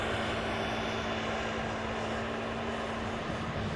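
Boeing 737 landing at Amsterdam Schiphol with reverse thrust, a sustained broad engine roar heard from a distance, steady and fairly quiet with no talk.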